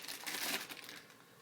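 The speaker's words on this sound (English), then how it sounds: "we got some baby carrots in a plastic bag" Plastic bag of baby carrots being crinkled and handled up close, a quiet crackling rustle that swells in the middle and then fades, with no talking.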